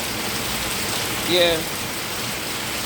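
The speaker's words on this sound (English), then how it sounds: "It's an all-island rain. Heavily." Heavy rain pouring onto a rooftop on a rainy day in Kingston, Jamaica, a dense, steady hiss of drops throughout, with a brief spoken word in the middle.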